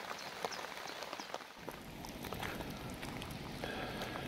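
Rain falls steadily during a walk in the Tatra mountains near Zakopane, a soft even patter of drops on nearby surfaces, moderately quiet and uninterrupted by speech.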